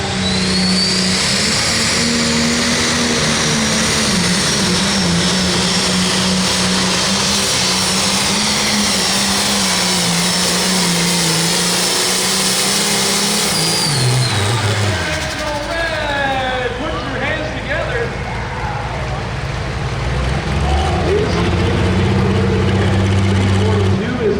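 International 1066 tractor revving hard at full throttle on a 9,500 lb limited pull track, loud and continuous, then dropping off sharply near the end before surging again, with an announcer talking over it.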